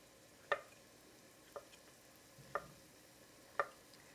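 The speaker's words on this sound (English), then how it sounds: "And then just slice into your mushrooms." A knife slices through mushrooms on a board in a home kitchen, four quiet crisp cuts spaced about a second apart, close and isolated in an otherwise still room.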